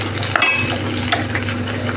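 Tomato dropped into a pan of sautéed onions, with a steady close sizzle of frying and a few scraping stir strokes against the pan.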